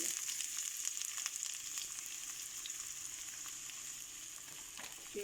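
Sliced onions hiss and sizzle in hot mustard oil in a pan for a Bengali kala bhuna, a steady, bright crackling fry up close, with no talking.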